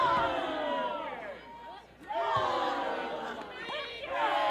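A wrestling crowd at a live three-way women's match roars and chatters during a striking exchange, a dense, steady wall of cheering voices with a brief dip before swelling loud again.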